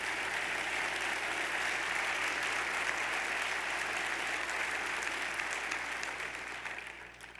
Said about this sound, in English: Let's applaud them both for their courage and thank them.